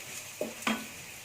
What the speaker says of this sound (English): So I am going to cook now till these masalas are cooked properly in the oil.